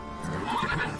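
Roach, a horse in The Witcher 3, gives a short close whinny lasting about a second, with no speech over it.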